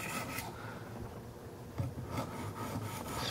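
Kershaw Skyline knife blade stroked against a 600 grit stone on a Wicked Edge sharpener, giving a soft, continuous rasping rub with a few brighter strokes, close and steady, no talking.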